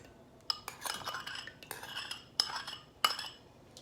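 Vegan muffin batter with melted margarine being mixed in a bowl, with several sharp clinks of a utensil against the dish between softer scraping and stirring sounds, close up and fairly quiet.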